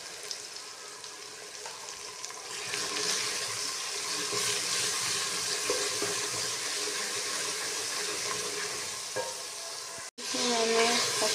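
Masala of salt, turmeric, coriander and ground red chilli frying in ghee with hot water added, a steady loud sizzle with light stirring, a brief cut and then bubbling sputters.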